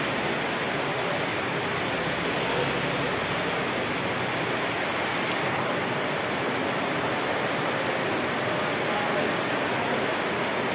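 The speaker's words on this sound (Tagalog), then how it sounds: "lalong lumalakas ang ulan." Heavy rain pours steadily during Typhoon Enteng, growing stronger, a dense continuous roar of downpour on surfaces with no letup throughout.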